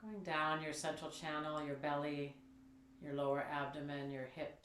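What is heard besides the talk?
No distinct noise like a dog, phone or traffic.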